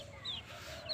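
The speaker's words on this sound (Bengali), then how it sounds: "এটা স্বনির্ভর কৃষি বাড়ির মুরগির বাচ্চা, দেশি মুরগির বাচ্চা পালার ঘর।" Native chicken chicks inside a brooding house give two short, high peeps, one early and one near the end, fairly faint over a low background murmur.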